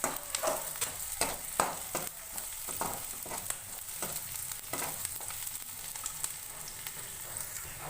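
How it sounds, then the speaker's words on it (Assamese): Onions fry in oil over a medium flame, giving a soft, continuous sizzle with crackles and occasional stirring scrapes, close and fairly quiet, with no voices. "অলপ ৰঙচুৱা পৰালৈকে এইখিনি ভাজি থাকিব মিডিয়াম ফ্লেমত"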